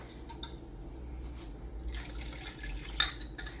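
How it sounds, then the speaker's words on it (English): Chicken stock made from bouillon and water is poured into a roasting pan with roast chicken and potatoes, a soft liquid splashing and trickling that grows livelier halfway through, close by in a quiet kitchen. "now we are going to add 2 cups of chicken stock"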